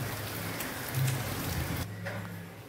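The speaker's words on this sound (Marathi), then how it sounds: "हे बघा, पाऊस पण छान सुंदर पडतो आहे।" Steady rain falls outside, a soft continuous hiss of drops at moderate distance with no voices.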